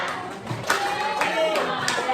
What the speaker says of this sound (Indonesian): Ice breakingnya yaitu tepuk cinta, cinta kecil, cinta sedang, cinta besar.